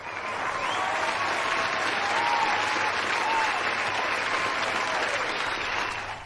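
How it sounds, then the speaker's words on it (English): A large convention crowd at InventCon bursts into sustained cheering and applause, a dense, steady roar of clapping and voices that holds loudly for several seconds. "suddenly the crowd erupts into cheers"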